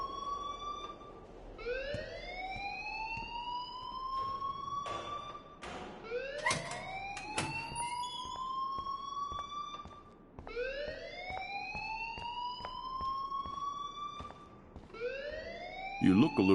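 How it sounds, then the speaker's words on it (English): Fire alarm in the video game Life is Strange, a repeating rising electronic siren wail that sweeps up about every four seconds over a steady background, with some brief clattering sounds between cycles. "please turn off that alarm since that's your job"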